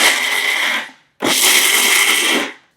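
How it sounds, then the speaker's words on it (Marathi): A kitchen mixer grinder grinds dry fruits in two loud bursts, a high whirring roar that stops briefly and then runs again before winding down. "सुकामेवा देखील मिक्सरला छान दळून घ्यायचं"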